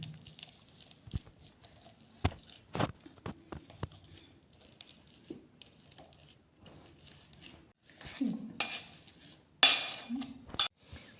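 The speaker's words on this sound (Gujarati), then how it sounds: "આ રીતે આપણે બધા જ બટાકાને મેસ કરી લઈશું" Quiet, irregular soft thuds and squishy presses of a masher working through boiled potatoes in a pot, growing a little louder toward the end.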